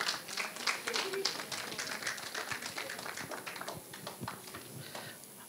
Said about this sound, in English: Big round of applause for Inessa.